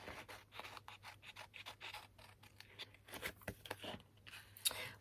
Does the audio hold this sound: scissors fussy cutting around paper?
yes